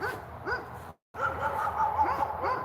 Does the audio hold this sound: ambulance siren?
no